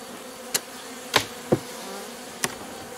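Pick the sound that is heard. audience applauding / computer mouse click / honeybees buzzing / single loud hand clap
honeybees buzzing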